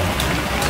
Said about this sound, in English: It's raining right now, so there's barely any animals.